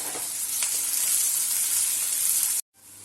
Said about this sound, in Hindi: अदरक भी डाल देंगे और प्याज को अच्छे से लाल होने तक के लिए हम पका लेंगे।